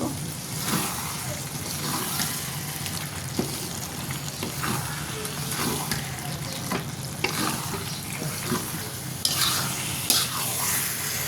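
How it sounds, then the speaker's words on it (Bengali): Eggplant fries in a kadai for begun bharta. A moderate sizzle hisses while a spatula stirs and scrapes against the pan in irregular strokes, with a few sharper knocks near the end and no one speaking. "বেগুনগুলো ভালো করে ভাজা ভাজা হয়ে গেছে"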